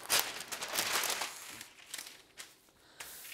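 Crinkling and rustling of parchment paper being handled up close, with irregular crackly bursts and a few sharper crumples toward the end.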